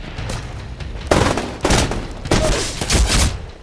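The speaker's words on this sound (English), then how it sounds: "Smart pistol. Reloading." Smart pistol fire in the Titanfall video game comes in several dense bursts of rapid shots over constant game noise and effects, loud and close with no talk.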